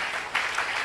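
A church congregation claps in a brief, steady burst of mid-level applause with no voices over it.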